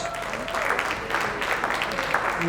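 Scattered applause rises from the crowd at an outdoor gun auction, fairly faint and brief, with a voice talking over it.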